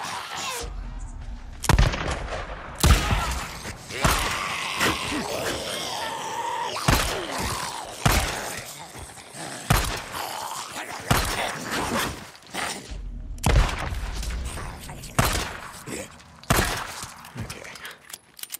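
Guns fire in the Days Gone video game, sharp repeated shots in irregular bursts throughout, loud and close, with scattered footsteps and groans between them.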